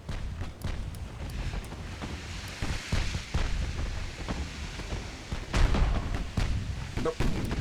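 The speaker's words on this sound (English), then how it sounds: "Load them 20-inch guns." Heavy 20-inch naval guns fire in the naval video game Ultimate Admiral Dreadnoughts, a dense run of booming shots and rumbling impacts over constant loud battle noise, with a stronger burst near the end.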